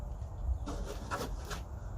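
Scissors make close, faint rasping cuts through a stiff plastic jug, about three short strokes in quick succession with no talking.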